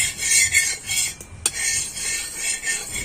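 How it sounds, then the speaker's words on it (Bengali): A utensil spreads white cooking oil across a tawa griddle for a ripe-mango lachha paratha, making soft rhythmic metallic scrapes and swishes that come in repeated strokes, with one sharp clink near the middle. "তেলটা আমি চাটুর মধ্যে এভাবে ছড়িয়ে দেব।"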